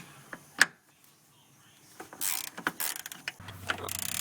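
Socket ratchet loosening 13mm bolts on the drive shaft of a 1999-2005 BMW E46, heard as a few short metallic clicks and scrapes close by, with a sharp tick early and a rougher, busier stretch of ratcheting toward the end.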